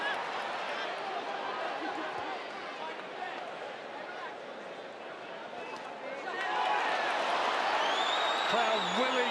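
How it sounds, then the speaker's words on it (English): Boxing arena crowd roaring steadily behind the Jamie Conlan versus Jerwin Ancajas bout, a dense continuous wash of cheering that swells louder near the end, with commentary voices over it. "Crowd willing Conlan on."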